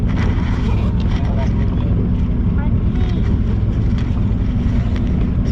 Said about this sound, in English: my trolling motor will basically just keep me in one spot. It doesn't have enough power to move against this.